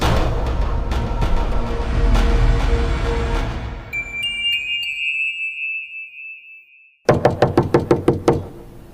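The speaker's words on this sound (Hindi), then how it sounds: "दरवाजा खटखटाने की आवाज सुनकर" Sharp knocks on a door ring out in quick series as a sound effect for a Hindi horror audio drama, first under a dense bed of music, then alone as a tight, loud burst of raps after a tense tone.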